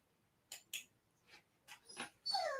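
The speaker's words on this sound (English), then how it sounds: "Singing dog?" A dog whimpers and yips in a series of faint, breathy cries, rising into a higher drawn-out whine at the end, quiet and fairly close with no talking.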